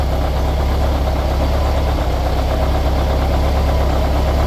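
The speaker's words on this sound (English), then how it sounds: "start it up, and you hear it uh, plateaued there." A Volkswagen engine fitted with FiTech fuel injection idles steadily after start-up, a loud, close, even rumble with a fast rhythmic knock and no voices.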